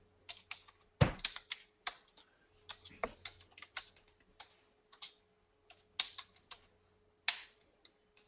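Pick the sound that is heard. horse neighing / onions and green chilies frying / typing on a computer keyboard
typing on a computer keyboard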